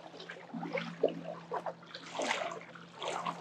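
Barefoot walkers slosh through ankle-deep shallow water over visible ground, with a steady run of close, soft splashes and trickling stirs, fairly quiet.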